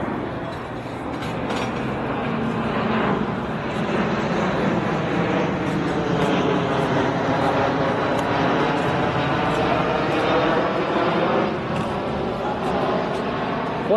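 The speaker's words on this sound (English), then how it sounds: "Plane drowns out everything." An airplane passes overhead during a test ride of a 1965 Harley-Davidson Panhead, a steady, loud drone with a slowly shifting pitch that fills the whole stretch and masks other sounds.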